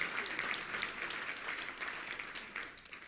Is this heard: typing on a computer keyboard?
no